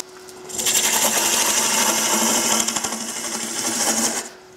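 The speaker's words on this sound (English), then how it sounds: "we can just start getting a lot of the wood out of here with a roughing out gouge" Roughing out gouge cutting into a spinning wooden blank on a lathe while turning a mallet, a steady, fairly loud scraping hiss that holds for about four seconds with small fluctuations, preceded and followed by the quieter lathe hum.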